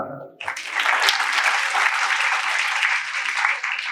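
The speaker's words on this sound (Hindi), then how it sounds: "तालियां" A hall of about 500 students at a youth festival at ISKCON bursts into loud, steady applause. The clapping starts suddenly, then holds as a dense, continuous wash.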